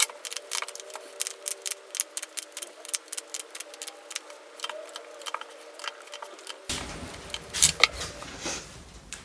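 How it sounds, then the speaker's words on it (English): Tarot cards are shuffled in rapid, crisp riffling bursts with irregular ticking flicks, close and quiet, followed by a softer stretch of card handling and faint background noise. "So let's shuffle the cards and see what comes through."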